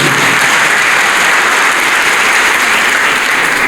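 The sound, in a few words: audience applause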